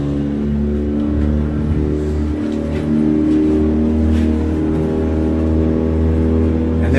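A 300hp outboard boat engine runs at full throttle, a loud, steady droning hum with strong layered tones that holds constant throughout, close and alone without talk.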